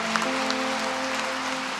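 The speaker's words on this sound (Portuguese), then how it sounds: "Você pode aplaudir o Senhor" A church congregation claps together for a short stretch, a dense, even patter that fills the room while a sustained organ or keyboard chord holds underneath.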